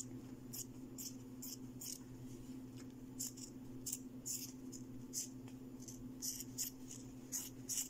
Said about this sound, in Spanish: Cortamos el exceso de tela.